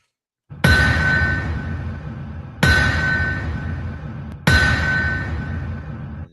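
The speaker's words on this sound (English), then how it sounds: "That is the sound of the anvil." Three loud metallic strikes about two seconds apart, each ringing out with a bright, sustained clang before slowly fading.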